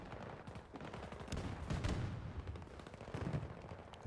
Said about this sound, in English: They're just shooting us all from upstairs.